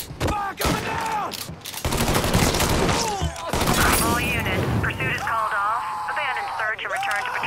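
Bursts of gunfire in Mafia 3 crackle through a tense pursuit, rapid shots and rattling volleys mixed with engine noise and whooshes, while voices talk and shout over the shooting.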